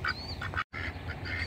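A Saxony duck quacks in a backyard flock, several short nasal quacks close by over a soft, noisy background.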